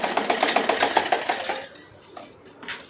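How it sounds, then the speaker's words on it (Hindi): Sewing machine running a straight stitch along a colored fabric strip on a rag doormat, a fast even run of mechanical clatter for about a second and a half, then stopping with a few faint handling taps. "इसमें एक सीधी सिलाई लगाते हुए सिलाई को पूरा कर लेंगे।"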